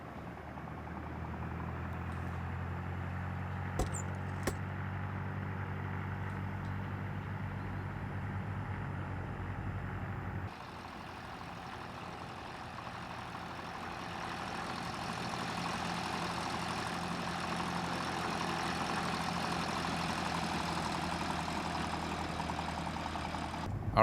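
A Cessna 172M piston engine idles with a steady low drone while taxiing to the runway in X-Plane 12, the tone shifting partway through as the engine note rises slightly and holds steady, with no talking.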